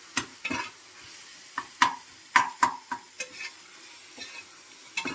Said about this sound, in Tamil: புதினாவையும் நல்லா கிண்டி விட்டுடலாம்.